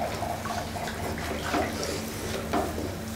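Water pours steadily into a pot of vegetable biryani cooking with capsicum, three glassfuls splashing in a continuous close stream with light clinks from the pot.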